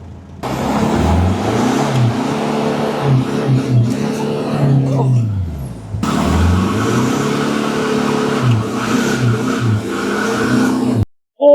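A car engine revs repeatedly in bursts, rising and falling in pitch, loud and close, with a short break in the middle.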